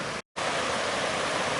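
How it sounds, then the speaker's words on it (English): A fast-running stream near an old cut-stone cast iron furnace, swollen from rain, gives off a constant loud rushing roar that breaks off in a brief silent gap, then resumes, with no voices. "And it's pretty fast running water right now."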